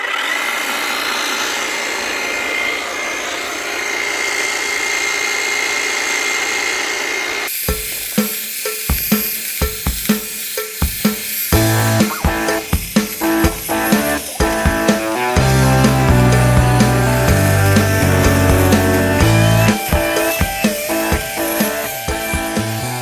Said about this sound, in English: So I'm going to do some trimming on this rose bush back here